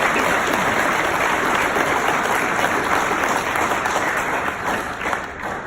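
An audience applauds at an evening gathering, a dense, sustained roar of clapping from many hands that stays loud and begins to thin out near the end.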